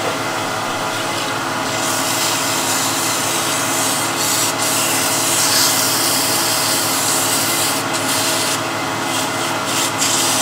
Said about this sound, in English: So this will take 360 grit, just a few seconds to sand it